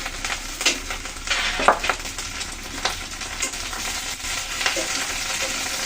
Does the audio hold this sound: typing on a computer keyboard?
no